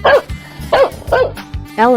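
A cartoon dog barks several times in short, loud, close bow-wow bursts, four or five in quick succession, ending on a longer yelping bark.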